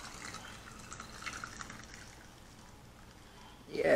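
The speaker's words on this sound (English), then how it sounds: "Pour us a glass here." Sweet tea poured from a gallon jug into a glass at a dinner table, a faint, steady liquid trickle lasting a few seconds before a louder clunk at the end.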